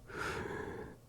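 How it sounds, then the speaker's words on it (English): A single heavy, raspy breath drawn in close and loud, lasting about a second. "You put your ear up and you can hear heavy breathing."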